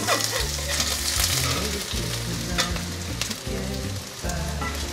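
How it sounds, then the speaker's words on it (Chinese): Tofu and Chinese yam pan-frying in oil in a pan, giving a steady, close, loud sizzle with crackling pops and occasional scraping of a spatula, no voices. "稍微炒一下，现在让它煎香"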